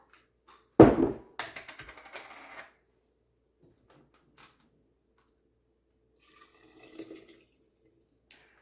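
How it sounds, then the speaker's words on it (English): Handmade organic butter is rinsed in water, giving a short burst of close splashing and sloshing that fades into near silence, with a few faint drips later. "We're going to rinse one more time."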